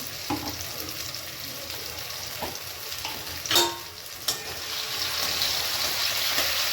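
Food sizzles and fries in a pan over a high flame after yogurt and turmeric go in, with occasional scraping stirs and clinks against the pan, steady and close.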